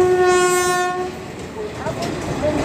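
An express train pulls into a railway station platform, its loud sustained horn blaring for about a second before fading into the rumble and clatter of the wagons rolling in close by.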